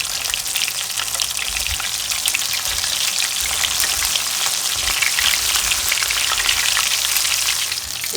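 Fish fillets fry in a pan with a steady, dense sizzle and crackle, loud and close throughout, as spatulas turn the pieces.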